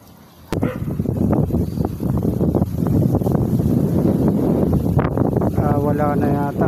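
Strong wind blowing at sea buffets the microphone in a loud, continuous roar, with someone talking over it and a sharp knock partway through.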